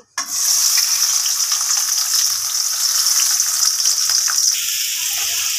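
Chopped onion, green chilli and tomato dropped into hot oil in a pan, bursting into a loud, steady, close hiss of frying that holds throughout after a brief quiet start, no talking.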